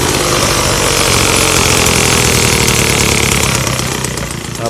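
A Peugeot 102 moped engine with its stock 12 mm carburetor idles loudly and close, a dense, buzzing two-stroke rattle that holds steady for several seconds before easing slightly at the end.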